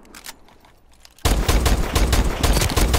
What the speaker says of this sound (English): And it's a very accurate sniper, but it's not very powerful.